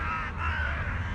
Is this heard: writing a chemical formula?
no